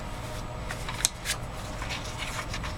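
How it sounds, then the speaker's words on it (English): Scissors or a paper cutter slicing card stock for a handmade card give a few faint, quick snips and rustles, close but quiet, over low room hiss. "I'm going to cut both pieces at 3 3/4"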